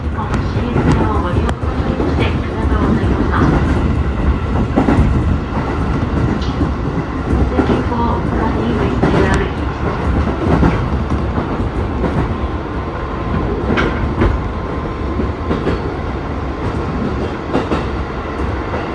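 A train runs along the Usui line through mountain country in Japan, a steady loud rumble with rhythmic clickety-clack of wheels on rail joints throughout, heard from inside the carriage with some faint speech mixed in.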